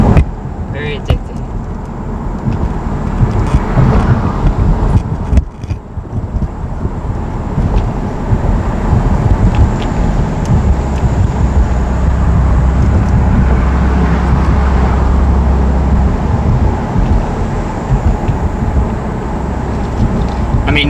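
A 2020 BMW M4 Convertible on the move, its engine droning steadily with a low rumble and broad road and wind noise throughout, near and fairly loud, under occasional talk from the occupants.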